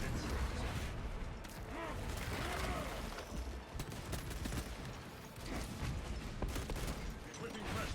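Sustained heavy bolter fire against a Tyranid swarm in a Warhammer 40,000 shooter game, dense overlapping bursts and booms rolling continuously for the whole stretch, loud and close, with game voice lines mixed in.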